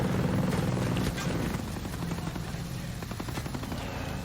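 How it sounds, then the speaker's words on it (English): A helicopter in the shooter Ghost Recon Breakpoint thrums steadily nearby during combat, its rotor wash filling the whole stretch, with faint scattered gunfire in the background. "Though we do have a helicopter."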